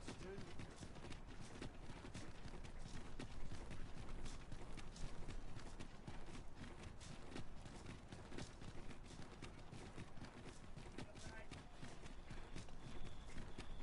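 Horse hooves clip-clop steadily in a video game, an even, continuous patter of hoofbeats at moderate distance throughout, fairly quiet.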